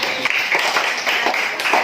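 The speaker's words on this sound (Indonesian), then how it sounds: "Kasih tepuk tangan untuk Desi." A class at an Indonesian school applauds a student, a brief burst of many hands clapping together, fairly close and moderately loud, with a little speech mixed in.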